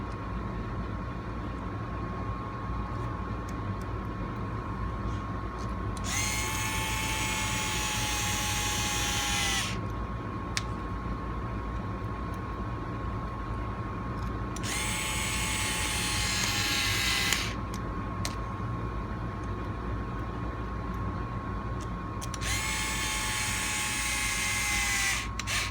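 An electric screwdriver or drill whirs in three separate bursts of a few seconds each, with quiet pauses between, driving four screws into the bottom of an RC rock crawler transmission skid plate. A steady faint hum runs underneath.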